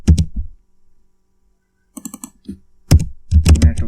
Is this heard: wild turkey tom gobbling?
no